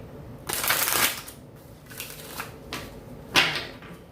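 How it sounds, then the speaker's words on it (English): Tarot cards being shuffled close by: a long riffling burst, then a few shorter flicks and a final sharp snap of cards, with no talking. "One more shuffle."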